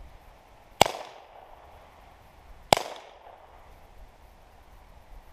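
A Thompson submachine gun fires two separate single shots about two seconds apart. Each is a loud, sharp crack followed by a short echoing tail in a quiet outdoor setting.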